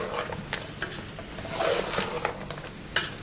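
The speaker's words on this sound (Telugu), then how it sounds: "ఇది కూడా బాగా ఫ్రై చేసుకోవాలి కలుపుకుంటూ పచ్చి వాసన అంతా పోవాలి" A masala is stirred and fried in a pan for a salted fish rice and curry meal. Soft sizzling runs throughout, broken by repeated scraping stirs and a sharp clink near the end.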